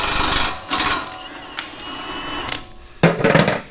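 A 24mm socket on a power tool undoing a D-ring bolt on the front bumper of a Hummer H3, with several loud close whirring bursts of varying length separated by brief pauses.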